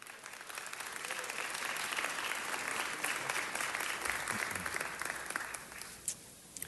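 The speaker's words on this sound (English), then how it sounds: "Give yourselves another round of applause." Sustained audience applause fills a large hall, dense steady clapping that swells, holds for several seconds and tapers slightly near the end, with a faint voice underneath.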